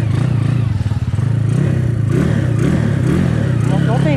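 A CG 255cc four-stroke OHC motorcycle with no working brakes and a soft tire rumbles continuously and loudly up close, its engine note wavering, with a voice mixed into the noise.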